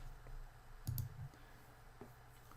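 Computer mouse clicks on clinic software, a short cluster of soft clicks near one second and another faint click later, quiet and close with a low hum underneath.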